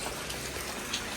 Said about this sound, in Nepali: पानी परिरहेको छ।